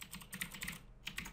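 Quiet, rapid keypresses on a computer keyboard while entering a username, a steady run of light clicks with a short pause near the end.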